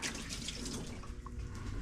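Hot water pours from gallon jugs over a car door being prepped for paint, a steady close splashing and trickling of liquid that runs without a break.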